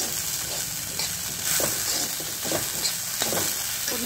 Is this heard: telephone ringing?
no